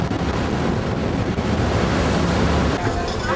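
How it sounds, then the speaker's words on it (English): Strong wind blowing outdoors, a loud continuous roaring buffet across the microphone with no pauses, broadband and rough throughout. "It is windy out here"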